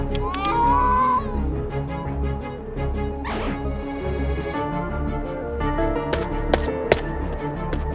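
A cat in the video game A Space For The Unbound gives a clear rising meow at the start, over a busy game soundtrack with scattered clicks and chimes that continues afterward.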